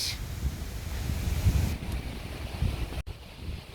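Strong gusty wind during a rainstorm, a loud low rumbling buffet that rises and falls across the mic with a steady rushing hiss above it, briefly cut off near the end.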